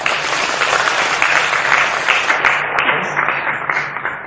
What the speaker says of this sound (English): Give them a very big applause.